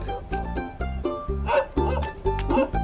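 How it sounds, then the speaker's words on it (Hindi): A dog barks over and over in a steady, insistent rhythm, loud and fairly close, during a Hindi-dubbed film scene, with little else audible between the barks. "कुत्ते ऐसे ही भौंकते रहेंगे, तुम डरो मत"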